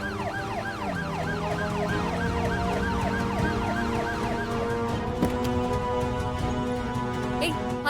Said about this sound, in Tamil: ஆம்புலன்ஸ் போங்க போங்க போங்க.